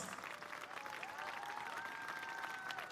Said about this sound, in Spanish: más fuerte el aplauso para la escuela ONG Toki